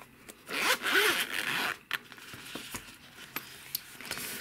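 Zipper on a Filofax Compact zip-around organizer wallet being pulled open, a close, loud rasping run of about a second followed by a few light clicks and handling taps, with no talking.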